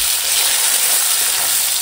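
Onion, green chilli, tomato and ginger-garlic-cumin paste fry in a pan with a loud, steady, close hiss and sizzle throughout.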